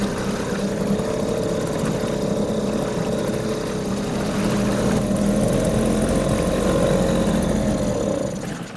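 A Mercury 2.5 hp two-stroke outboard engine idles steadily and close by, its even buzzing drone holding for several seconds before easing off at the very end.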